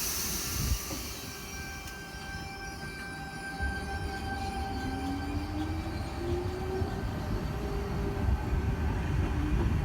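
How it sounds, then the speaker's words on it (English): A Sydney Tangara electric train pulls away from platform 2 at Mortdale on a Waterfall service, its motor whine rising in pitch over a loud, continuous rumble and hiss, with no voices. "Tangara departing platform number 2 for a Waterfall service."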